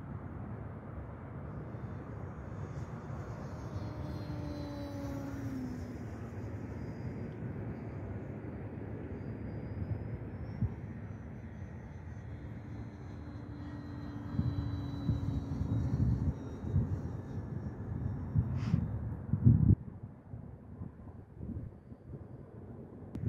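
Scimitar model airplane making a speed-test pass over a 400-foot runway, its thin whining engine rising and falling in pitch as it approaches, sweeps past and fades, under steady wind noise outdoors.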